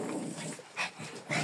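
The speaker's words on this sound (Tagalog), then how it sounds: "Yung mga tuta." Puppies making small whimpering and yipping sounds nearby, a few short faint bursts spaced through the quiet room.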